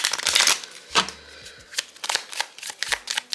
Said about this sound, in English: I heard shuffle, so that's what I'm gonna do.